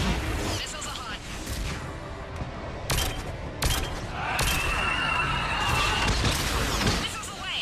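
Missiles launch in the sci-fi video game Mass Effect 3. A few sharp blasts give way to a rising, sustained whooshing roar of moderate loudness, and voices talk through it.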